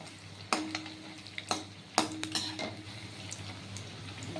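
Eggs fry softly in oil in a deep kadai, a faint low sizzle broken by a few sharp metallic clinks of a spatula against the pan.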